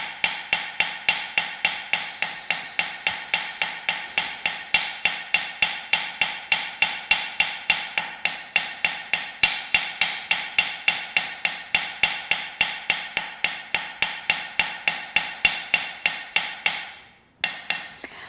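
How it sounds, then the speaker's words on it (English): Bronze wire is hammered flat for jewelry in a studio, with rapid, evenly spaced sharp metallic strikes over a hard surface, loud and close, continuing steadily before stopping near the end. "wherever I hit, I'm just spreading my wire, so you can move your hammer any way you want to."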